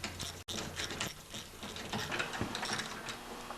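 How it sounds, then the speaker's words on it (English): An E-Torx ratchet tightens the carburetor bolts on a Briggs & Stratton snowblower engine, giving a close, steady run of rapid pawl clicks with one brief pause near the start. "we're going to tighten up the carburetor with the E-Torx"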